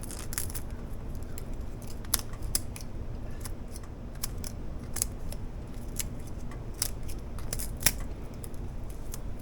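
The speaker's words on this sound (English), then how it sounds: "Just gonna cut it up, put a little bit on top of here." Scissors snip through bacon being cut up as a topping for a shepherd's pie, making a steady series of short, crisp clicks and cuts close by against a soft room hum, with no talking.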